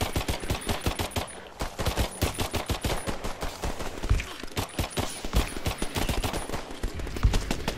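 Rapid automatic gunfire in the video game Earthfall, loud close bursts of repeated shots in long streams with brief pauses, continuing throughout.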